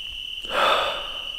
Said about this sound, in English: It's quiet. I can hear crickets.